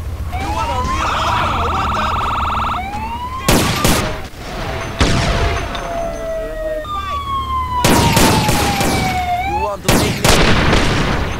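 In GTA San Andreas, gunfire cracks out in several loud bursts while police sirens wail and sweep up and down behind them.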